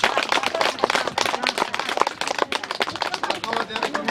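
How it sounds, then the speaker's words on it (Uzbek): Family and guests clap at a home birthday gathering for a mother. The sharp claps are uneven and crowded, and chatter and voices run underneath throughout. "Chiroyli qarsak bo'lsin."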